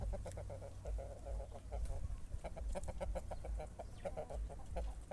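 Several hens cluck in a steady, rapid patter, soft and continuous, with low background rumble and no talking.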